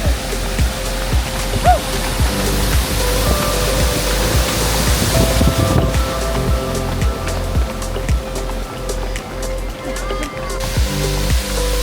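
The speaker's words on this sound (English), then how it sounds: "First waterfall." Rushing waterfall on a river trail during an ultramarathon, a loud continuous roar of falling water with scattered clattering and footsteps mixed in.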